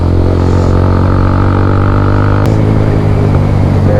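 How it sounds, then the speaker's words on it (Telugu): A BMW G 310 GS motorcycle idles close by, a loud, steady, low engine drone with a rich throb and a faint mechanical clatter throughout. "this is BMW GS 310"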